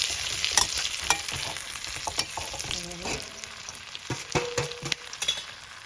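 Stuffed green chillies frying and sizzling in a pan as a spoon stirs them, giving irregular scraping clicks over a soft crackle, close and moderately quiet, with no talk.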